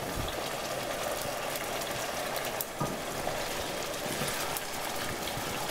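Risotto rice cooking with broth in a smoking pan for a courgette and mint risotto, giving a steady, close sizzle with soft stirring scrapes throughout.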